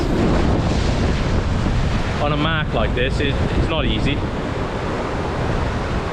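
Surf crashes and strong wind buffets the microphone at a rocky sea fishing mark on Friars Point, a loud continuous roar, while someone talks briefly over it partway through.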